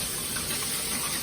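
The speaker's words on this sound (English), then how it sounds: "I was gonna rinse my hands real quick." Hands rinsed under a running kitchen tap while cooking zucchini flowers, a short steady splash of flowing water, close and moderately quiet, with no talking.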